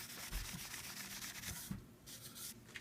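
Cloth rubbing back and forth across the faceplate of a Marantz 2110 scope tuner, a close, steady scrubbing with rhythmic strokes and a brief pause near the end.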